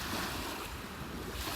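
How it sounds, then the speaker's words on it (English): Small lake waves lapping under a strong headwind buffeting the microphone, a steady close wash of water and wind noise with no voices. "It looks like a pretty strong headwind. At least the waves aren't very big."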